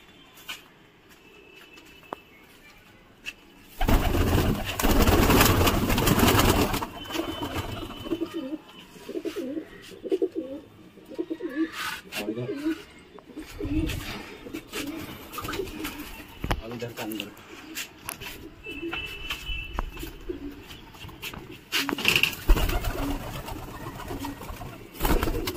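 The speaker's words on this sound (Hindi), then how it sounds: "ये हमारे तीसरे चौथी मंजिल का कबूतर है।" Large Indian pigeons in a fourth-floor loft coo in low, soft bursts among rustling and handling noise, with a loud broadband burst early on and faint activity throughout.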